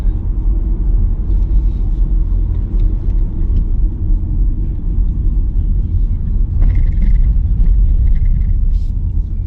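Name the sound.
car driving off-road toward lighthouse, Fuerteventura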